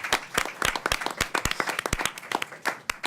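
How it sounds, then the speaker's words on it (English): A small audience at a policy briefing applauds a woman being welcomed, crisp individual hand claps overlapping in a quick, irregular patter, moderately close and steady for the whole stretch. "please give her a warm round of applause and welcome"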